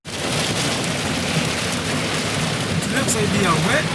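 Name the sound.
rain in a game park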